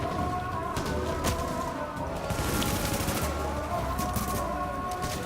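Rapid bursts of gunfire in the video game Tom Clancy's The Division crackle repeatedly over a constant noisy background, with no voices.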